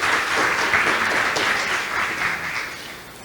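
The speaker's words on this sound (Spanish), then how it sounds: "Un aplauso para ellos, por favor." Steady audience applause fills the room at a talk on astrology and Torah with a rabbi and an astrologer, loud and continuous for about three seconds before easing slightly at the end, with no voices over it.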